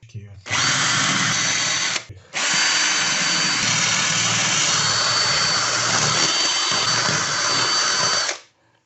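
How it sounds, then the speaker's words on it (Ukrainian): A loud power drill grinds steadily into a concrete ring, cutting out briefly once before resuming in a long continuous whine, then stopping. "Сверлиться дуже просто"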